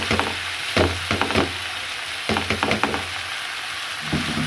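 Onion flower stalks, potato and beans fry in a pan, giving a steady soft sizzle broken by bursts of stirring scrapes and clatters, close and moderately loud with no talking.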